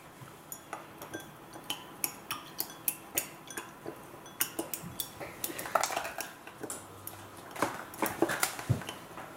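A spoon clinks against a glass container while a liquid mixture is stirred in a home chemistry experiment, a quick irregular run of light, bright taps, close and fairly soft, with a faint low murmur underneath.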